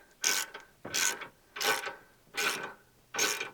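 Hand ratchet tightening a Range Rover L322 front lower suspension arm bolt with a 22mm socket, five evenly spaced clicking strokes, close and clear.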